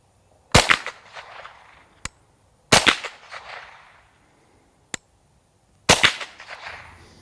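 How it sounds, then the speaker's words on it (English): Gunshots from Piney Mountain tracer rounds fired at steel plates outdoors: three loud, sharp reports spaced about two and a half seconds apart, each with a short echoing tail, plus faint distant ticks of plate hits between them. "I'm going to just take some shots with some Piney Mountain tracers here"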